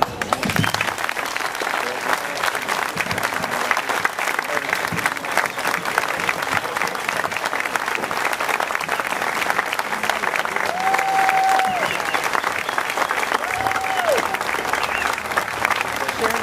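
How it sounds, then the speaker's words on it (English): An audience at a Veterans Day ceremony in Bastrop gives long, steady applause that stays even throughout, with a few faint voices beneath. "A very well-deserved applause for Colonel Stanberry."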